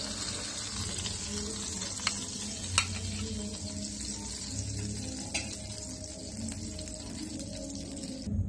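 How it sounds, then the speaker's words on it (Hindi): Fish fry in hot oil in a pan, giving a steady, close sizzle with faint crackles and a few light clicks throughout. "बहुत अच्छे तरीके से फ्राई होती है, इसी तरीके से हमें अपनी दोनों फिश को फ्राई करना है।"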